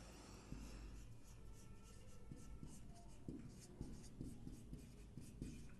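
Pen writing notes during a class on biological classification, with steady close scratching strokes in short rhythmic bursts and no talk.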